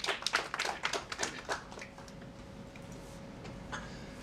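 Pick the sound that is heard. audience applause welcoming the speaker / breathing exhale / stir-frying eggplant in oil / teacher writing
audience applause welcoming the speaker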